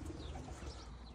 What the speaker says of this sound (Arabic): هذا حمام السباق مالته